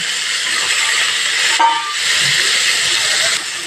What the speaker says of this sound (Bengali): একইভাবে ব্রকলিগুলো ভেজে নেব